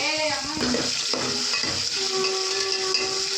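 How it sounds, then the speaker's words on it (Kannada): Onions and tomato frying in a pan give a steady, close sizzle and hiss, broken by a few clinks and scrapes of stirring near the start. "ಚೆನ್ನಾಗಿ ಫ್ರೈ ಮಾಡ್ಕೋಬೇಕು ಈರುಳ್ಳಿ ಸ್ವಲ್ಪ ಈರುಳ್ಳಿ ಬ್ರೌನ್ ಕಲರ್ ಆಗಲಿ"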